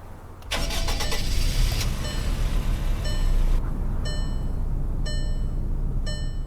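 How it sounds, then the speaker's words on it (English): A 2017 Wolfsburg Tornado car engine in a video game cranks briefly and catches, then settles into a steady idle rumble, accompanied by a few electronic chimes. "Here's what it sounds like starting up."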